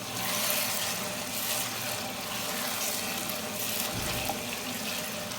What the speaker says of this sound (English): It's my blender and this is the water from my blender.